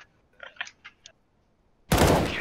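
Gunfire in the video game Counter-Strike: Global Offensive during a competitive match: a few faint, scattered clicks, then a loud, dense burst of shots that carries on to the end.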